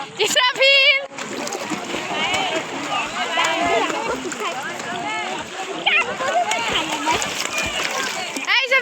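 Children and adults splash and dive in a river, with constant splatter and churning water close by as voices shout and talk over it throughout.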